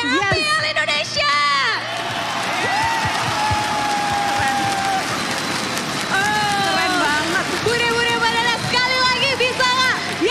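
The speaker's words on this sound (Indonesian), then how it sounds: "Kita mau coba ya, kita teriak bareng-bareng ya." Crowd at an esports match event shouting together and clapping, loud and sustained, with a host's voice speaking and cheering over the roar.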